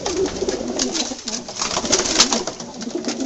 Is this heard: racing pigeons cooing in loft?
yes